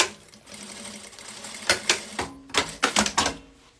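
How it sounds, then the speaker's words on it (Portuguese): A sewing machine sews bag fabric in short, sharp bursts of rapid stitching, close and fairly loud, with quiet pauses and faint handling noise between the runs. "Eu vou costurar aqui."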